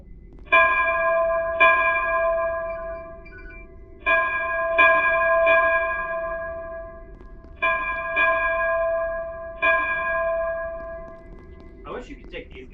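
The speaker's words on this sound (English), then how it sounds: "Oh, there's the bell." Bell chimes inside a Stage-9 virtual recreation of the Enterprise D, ringing in a series of clear, sustained tones that come in pairs and groups, each decaying slowly, with a voice briefly heard near the end.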